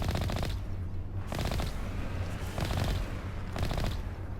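Mako vehicle guns fire in Mass Effect: four short, loud bursts of rapid shots, evenly spaced across a few seconds, with a steady rumbling background between them.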